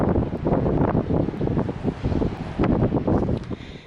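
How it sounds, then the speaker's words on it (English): Strong wind buffets the microphone in loud, rumbling gusts on a sandy beach, with a faint hiss of surf underneath. "So windy here."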